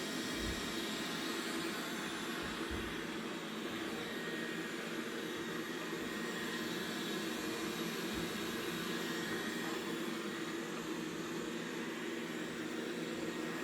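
A robot vacuum cleaner runs on a home floor, giving a steady whirring hum with a faint airy hiss, continuous and fairly quiet with no talking.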